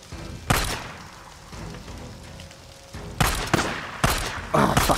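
Gunshots in the video game Days Gone, a loud crack followed by a cluster of rapid, closely spaced shots near the end, with quieter game ambience between them.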